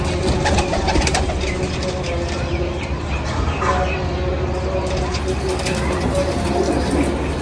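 Golden Kamagar pigeons cooing, several birds calling in repeated low burbling coos amid constant bird noise, with people talking nearby.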